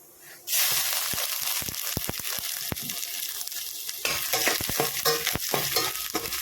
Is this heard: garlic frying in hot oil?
yes